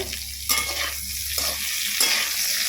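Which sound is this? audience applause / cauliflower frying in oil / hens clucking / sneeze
cauliflower frying in oil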